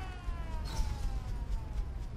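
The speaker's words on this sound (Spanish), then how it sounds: "esta sirena no me gusta nada" Alarm siren in the Resident Evil Revelations 2 video game, a steady tonal wail with rising harmonic sweeps sounding continuously over a low rumble, with no speech.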